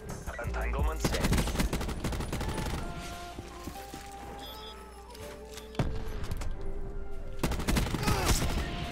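Dense, sustained gunfire from a Call of Duty Black Ops 4 multiplayer gunfight, with rapid automatic bursts layered over game noise that ease midway and then surge back loud toward the end.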